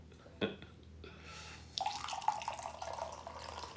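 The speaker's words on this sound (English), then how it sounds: "let's pour a little more coffee" Coffee poured into a cup during a quiet morning, a soft trickle and splash starting partway through and running steadily to the end, close and moderately loud.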